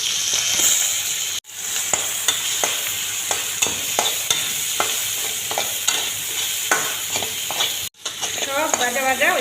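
Onion, garlic, bay leaf and two red chillies fry in hot oil for a Bengali fish-head curry, giving a steady close sizzle broken by repeated spatula scrapes and stirs and two brief cut-offs.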